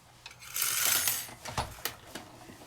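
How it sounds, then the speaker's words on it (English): Metal craft dies clatter and click as they are set onto a Sizzix magnetic gotcha storage tool, first as a soft scraping shuffle and then as several sharp, close metallic taps. No one speaks. "what you're hearing is me putting all my dies on my gotcha tool"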